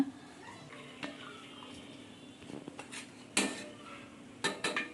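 Pressure-cooked greens and vegetables for a village-style massoppu sambar are spooned from the cooker onto a plate. Soft scrapes and metallic clinks of a ladle against cookware sound close by, with a few sharper knocks near the end.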